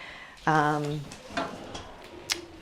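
A roll-away kitchen drawer in a custom DIY tiny house slides with a brief whirring squeal, followed by a few soft knocks and a sharper click as it settles.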